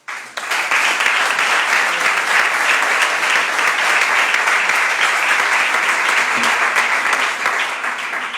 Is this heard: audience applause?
yes